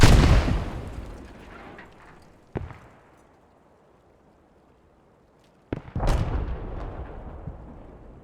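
Heavy artillery blasts in a war video game set at Driel, a loud boom with long rumbling decay, a sharp distant crack, then another close boom rolling away, with no talk.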